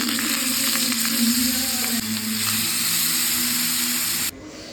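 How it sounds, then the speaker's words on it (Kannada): Mangalore-style bangde mackerel fish frying in oil, a dense continuous sizzle and crackle close up, steady for several seconds before dropping off abruptly near the end. "ಈಗ ಫ್ರೈ ಮಾಡೋಣ."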